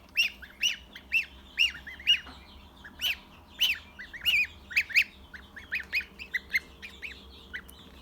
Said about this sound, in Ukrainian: в інкубаторі квачка, ні 30 лупляться такі наші гарні гусенята